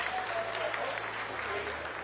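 Applause fills the mission control room during the Chandrayaan-3 lunar landing descent: steady, dense clapping from many people, fairly distant and muffled, with a faint voice underneath.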